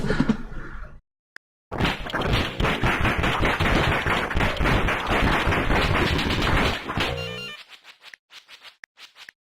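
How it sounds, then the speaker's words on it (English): Pipe bombs explode in the video game Death Road to Canada, a dense, loud barrage of rapid blasts lasting several seconds before breaking into a few scattered pops and silence. "I'm thinking of throwing the pipe bombs."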